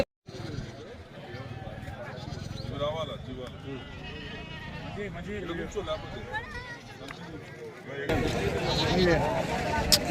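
Sheep and goats bleat at the busy Veltur livestock market in Telangana, with calls rising through a dense crowd babble and close conversation, growing louder and more crowded near the end.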